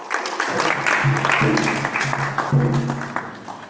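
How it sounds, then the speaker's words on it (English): Audience applause at an ISKCON Sunday Feast gathering, a short burst of clapping that rises and holds steady with a tonal sound ringing underneath. "Please give a big round of applause."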